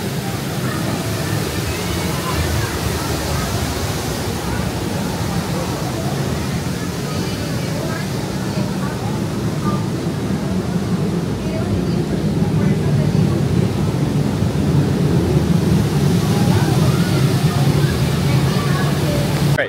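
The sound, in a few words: water flume ride splashing at Knott's Berry Farm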